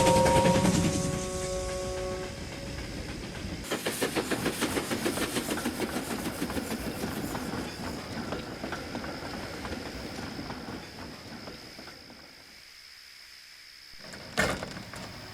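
An express train thunders past as a story sound effect, a rattling rumble with rhythmic clickety-clack that swells in the middle and fades away, followed by a short sharp knock near the end.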